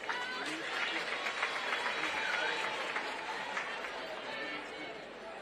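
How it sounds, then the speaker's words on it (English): A crowd claps at a distance at Mulungushi University, a continuous wash of applause mixed with murmuring chatter, moderately loud and spread evenly throughout. "Let's give her a round of applause."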